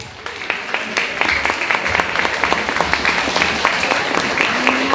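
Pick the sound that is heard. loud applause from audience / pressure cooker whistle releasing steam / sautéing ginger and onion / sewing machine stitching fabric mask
loud applause from audience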